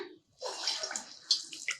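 Medu vada batter drops into hot oil and sets off a sudden sizzle after a brief quiet, settling into a bubbling hiss with sharp crackling pops.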